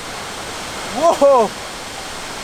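Paradise Falls, a huge Himalayan waterfall, roars as a steady close wash of broadband noise throughout, with a man's brief exclamation briefly over it.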